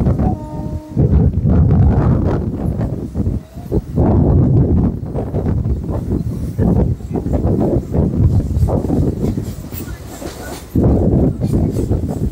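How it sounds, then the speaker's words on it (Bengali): A Sealdah–Dankuni local train pulls into Dakshineswar station, heard from on board as a loud, low rumbling roar with clattering and wind buffeting that briefly dips and swells. "দক্ষিণেশ্বরে ট্রেন ঢুকেছে"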